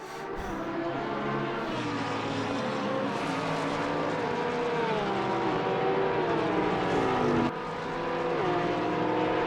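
A 2018 Porsche GT3R race car at Monza in Assetto Corsa Competizione screams at high revs, its engine pitch sweeping up through the gears with brief dips at shifts, steady and loud throughout.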